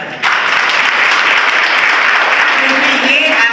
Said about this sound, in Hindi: तो आप अपने लिए एक बार तालियां बजाएं,